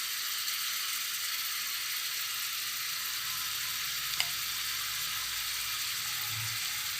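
Spices with turmeric sauté in a pan for a potato, cauliflower and tilapia curry, a soft, even sizzle with a single faint scrape near the end.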